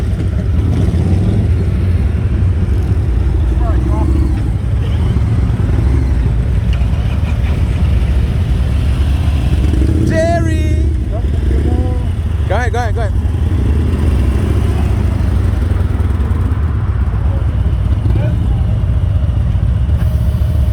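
Harley-Davidson 2019 Street Glide CVO motorcycles on a group ride, a steady loud engine drone with wind rush running throughout while a rider talks over it.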